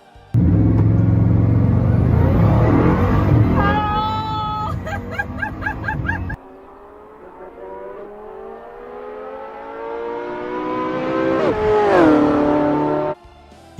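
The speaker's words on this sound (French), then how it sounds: "Ce moteur développe 1000 chevaux à 9000 tours par minute, offrant une montée en régime spectaculaire et une sonorité brute," A Bugatti Tourbillon's 90-degree V16 engine, rated at 1,000 horsepower at 9,000 rpm, revs hard and loud. It holds a rough, deep roar, drops back to a quieter idle, then climbs in a rising, sharp-edged wail before cutting off abruptly.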